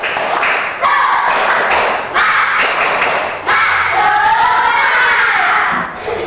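A classroom of children at a morning lesson performs a rhythmic spirit clap, loud claps and thumps landing in bursts with brief shouted calls mixed in, close and energetic.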